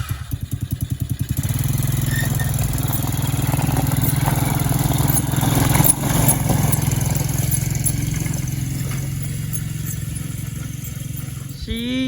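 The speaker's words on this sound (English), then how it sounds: "Ride motorcycles and ride four-wheelers" Motorcycle and four-wheeler engines run steadily at a loud, close drone for several seconds, with a rough idle at the start and shifting revs throughout.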